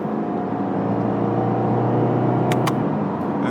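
A 2022 Subaru Impreza Premium hatchback with a CVT, driven at full throttle during a highway merge, gives a steady, loud engine drone and whir from inside the cabin, with no voices.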